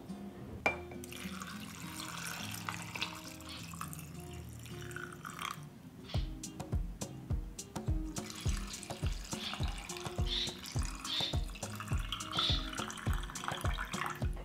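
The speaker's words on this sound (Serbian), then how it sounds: "Sada ću naliti toplu vodu u tegle." Warm water poured into glass jars while canning at home, a steady trickling stream with small splashes, then rhythmic repeated pours and clinks as each jar fills up close by.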